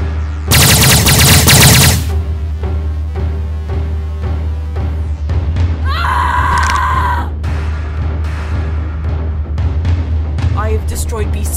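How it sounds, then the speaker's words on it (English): Loud, close burst of rapid stun-round gunfire sound effect in a stop-motion superhero film, followed by quieter repeated shots, a whining electronic tone and a steady low hum underneath. "I'll unload a couple hundred stun rounds on him"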